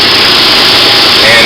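A wide belt sander with a 156-inch belt runs in a small wood shop, giving a loud, steady, broadband whir that fills the short stretch without letting up.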